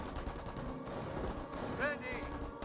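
MG42 machine gun bursts rattle steadily through a Company of Heroes battle, dense gunfire continuing under the din with a brief voice-like chirp near the end.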